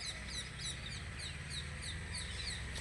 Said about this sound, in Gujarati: ચકલાનો કિલકલાટ એવો સુંદર હોય છે।